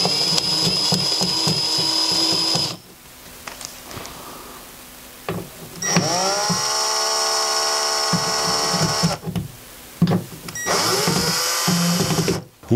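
Cordless screwdriver drill running in bursts while fitting windows and ventilation in a chicken coop, its whining motor spinning up, holding steady, then stopping, with short pauses between three long runs, loud and close.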